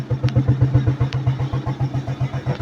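An Italika FT150 motorcycle idling after a new cylinder sleeve and piston were fitted, a steady low rhythmic putter with even regular pulses and a faint metallic ticking over it.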